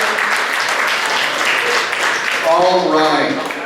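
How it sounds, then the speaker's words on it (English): Audience applause at a live show, a steady broad wash of many hands clapping throughout, fairly loud and near, with a voice and cheering rising over it toward the end. "Give her another big round of applause."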